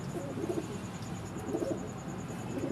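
Soft pigeon cooing repeats in low, rolling phrases over a steady background hiss, close by and fairly quiet.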